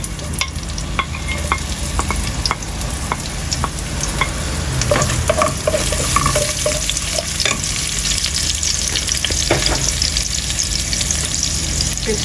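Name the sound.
onion, garlic and green chili frying in pan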